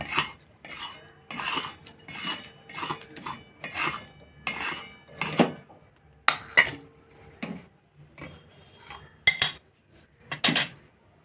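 Ingredients being lightly dry-roasted in a pan, heard as repeated scraping and rattling strokes of a spoon against the metal, rhythmic bursts close by with short pauses between.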